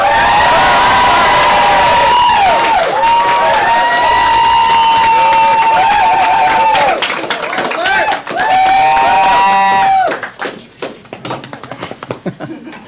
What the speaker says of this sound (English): Don't worry, James, the applause won't count towards your 3 minutes.